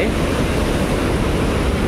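Water rushes steadily from opened dam gates during heavy rain, a dense, continuous roar with no break.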